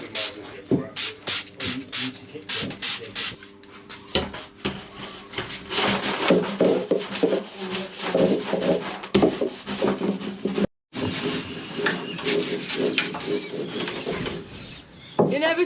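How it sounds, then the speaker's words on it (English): Vigorous scrubbing of a boat's bilge with a cleaner and degreaser, a steady, close rasping rub with rhythmic brush strokes that runs almost continuously, broken by one brief pause. "You're never too old to scrub bilges"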